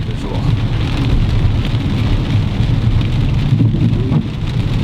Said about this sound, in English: It is pouring this morning.